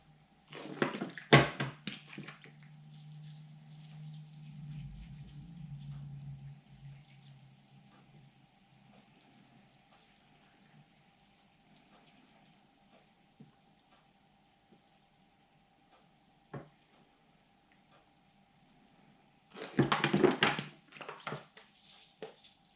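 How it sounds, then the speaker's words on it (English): Water is poured over fresh bonsai soil around a young avocado tree, giving a soft, steady trickle and gurgle between louder splashing bursts at the start and near the end. "soak it right through the new fresh bonsai soil that we've got in there"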